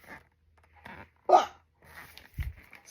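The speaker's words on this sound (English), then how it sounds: "Still with hiccups." A cartoon skeleton hiccups in short, sharp bursts, one prominent hiccup followed by a lower one, separated by quiet gaps and faint background sounds.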